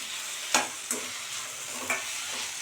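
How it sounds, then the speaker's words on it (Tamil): Ingredients for a spicy kara chutney sizzle steadily while being sautéed in a pan, with a few sharp scraping stirs of a spoon standing out above the frying hiss. "அளவுக்கு வதக்கினா போதும் ரொம்ப வதக்கணும்னு தேவையில்லை"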